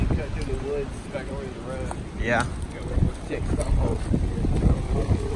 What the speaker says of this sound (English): It just feels like it's so windy.